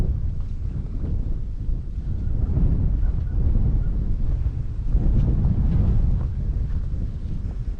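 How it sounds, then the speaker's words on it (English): Strong wind buffets a microphone outdoors on a cold morning, a loud continuous low rumble that swells and eases in gusts. "I suppose you can hear the wind is pretty strong this morning."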